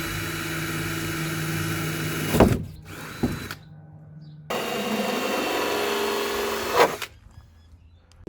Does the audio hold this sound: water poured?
no